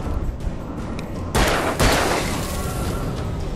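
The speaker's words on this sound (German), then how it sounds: "Zwei Schüsse." Two sharp, loud gunshot blasts in the video game Alan Wake, about half a second apart, each followed by a booming rumble that lingers, over quieter background noise.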